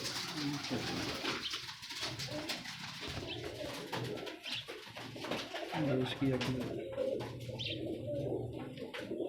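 Pigeons kept by a fancier coo steadily in a loft, several birds overlapping in soft repeated calls, with chirps and a voice talking intermittently underneath.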